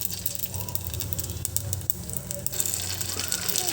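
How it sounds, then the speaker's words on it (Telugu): Pani puri dough rounds dropped one at a time into hot oil fry with a steady, close crackling sizzle, punctuated by sharper spits and pops and a faint low stirring rumble underneath. "ఇప్పుడు ఈ పానీపూరిని ఒక్కొక్కటిగా వేసేసుకుంటున్నాను చూడండి"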